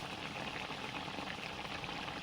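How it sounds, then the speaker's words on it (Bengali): A fish kosha curry simmers and bubbles in a pan, a steady dense low crackle and burble that stays constant and fairly quiet throughout. "মাছের কষাটা ফুটছে"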